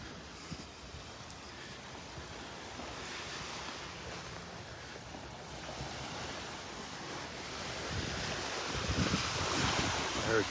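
Ocean waves washing onto a beach in North Naples, Florida, a soft continuous surf wash with light wind noise, swelling louder toward the end as a wave breaks nearer.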